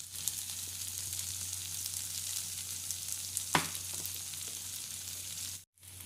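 Coriander powder, turmeric, chilli and other ground spices sauté in a pan in a Kerala-style kitchen. The frying sizzle is steady and close, with one brief stir scrape partway through and no talk.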